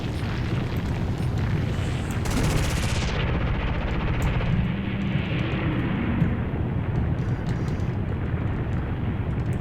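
Aircraft dogfight in War Thunder: a dense, continuous roar of engines and rumbling gunfire and explosions, with a brief sharp burst early on, loud throughout without pause.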